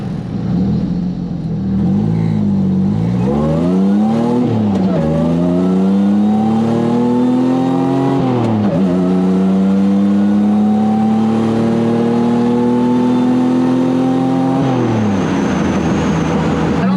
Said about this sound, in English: Probably do a little first through third rip.